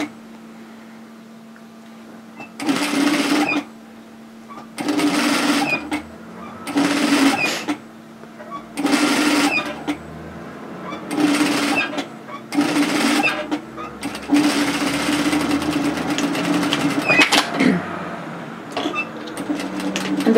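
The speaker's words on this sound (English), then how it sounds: "twin needle or plain stitch this into position" A sewing machine stitches knit fabric for a two-fabric tee in repeated bursts of steady whirring, a few seconds each, separated by short pauses and later running almost continuously, loud and close.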